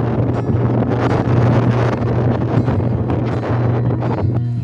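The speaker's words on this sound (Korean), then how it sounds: "남덕유산에 가까워질수록 엄청난 강풍이 불고 있습니다." Strong gale blowing across the ridge near the summit of Namdeogyusan in winter, a loud continuous roar buffeting the microphone with gusty surges and no pauses.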